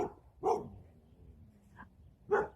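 A dog barks twice, with a faint yelp between, in short separate bursts at moderate distance over quiet room tone.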